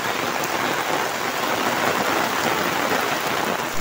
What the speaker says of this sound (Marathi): किती जोरात पाऊस आलाय बघा मित्रांनो, खूप जोरात पाऊस आलेला आहे.